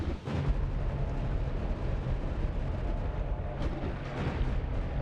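A holy bomb going off in the video game Noita: a sustained, heavy rumbling blast with dense low crackle that fills the whole stretch at steady loudness, with no talk over it.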